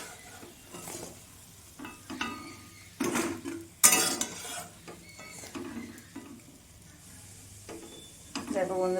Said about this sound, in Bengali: এইগুলো ভাজা হয়ে গেছে, আমি তুলে নেব।